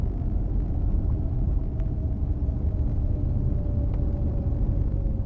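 A small airplane rolls out on the runway after a wheel landing, its steady low rumble and engine drone heard from inside the cockpit with no talking.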